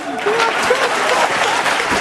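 An audience applauds at a hypnosis show, a loud, dense wash of clapping sustained throughout, with a voice talking over it.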